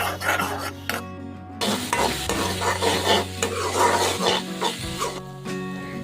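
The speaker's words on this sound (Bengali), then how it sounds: "কড়াইয়ে আবারও তেল গরম করে তাতে পেঁয়াজ, রসুন আর আদা বাটা দিয়ে মশলার কাঁচা গন্ধ না যাওয়া পর্যন্ত বেশ কিছুক্ষণ ভেজে নিচ্ছি" Onion, garlic and ginger paste frying in hot oil in a wok, a steady close sizzle with repeated scraping and stirring strokes throughout, no talking.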